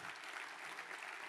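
Dense, steady applause from a concert audience at a church-style gathering, a continuous wash of many hands clapping at even loudness throughout, with no voices standing out.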